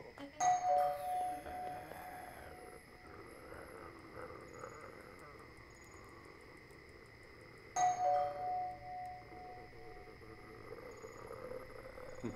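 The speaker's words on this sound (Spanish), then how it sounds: "el timbre" An electronic doorbell chimes twice about seven seconds apart, each a bright multi-tone ding-dong ringing out indoors over a quiet room.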